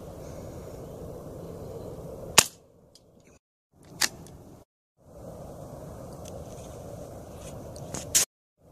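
Three sharp, short shots from an Umarex 850 .22 caliber air rifle used for night pest control, each a crisp crack a couple of seconds apart over a low, quiet background hum that cuts out briefly between them.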